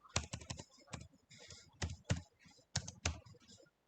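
Someone types on a computer keyboard while writing HTML and Tailwind code, producing quick irregular bursts of crisp key clicks up close with brief pauses between flurries.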